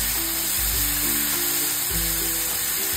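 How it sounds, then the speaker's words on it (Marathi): Ground peanut and onion masala paste sautéing in hot oil in a pan gives a steady, close sizzle that runs unbroken for the whole stretch. "फक्त 2 मिनिटांसाठी ह्याला वाटणाला छान असं तेल सुटेल ना तोपर्यंत हे वाटण आपल्याला परतून घ्यायचंय"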